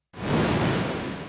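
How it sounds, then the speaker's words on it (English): Strong wind gusts in a sustained rushing roar that starts abruptly and holds steady, loud and close with no voices. "Whoa, the wind's too strong."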